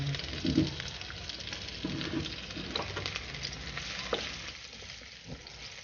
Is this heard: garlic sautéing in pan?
yes